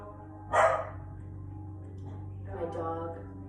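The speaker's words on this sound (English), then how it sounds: "my dog" A dog barks in a quick burst of two or three yips near the start, fairly close, followed by softer whining over a steady low hum in a quiet room.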